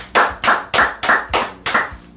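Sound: applause in the studio

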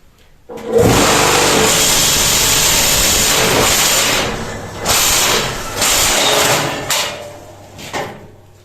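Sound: concrete block-making machine running

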